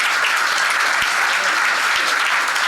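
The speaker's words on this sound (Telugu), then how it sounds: "ఆ యోసేపుకు చప్పట్లు కొడుతూ దేవుని నామాన్ని మహింపరుద్దాం." Congregation clapping during a Telugu church sermon for Good Friday, a dense, steady burst of applause filling the whole moment without talk.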